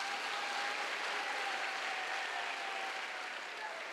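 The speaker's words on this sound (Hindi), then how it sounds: "ताली बजा के परमेश्वर के देंगे" Sustained applause from a church convention audience, a steady dense wash of clapping that holds at an even level throughout with no one speaking.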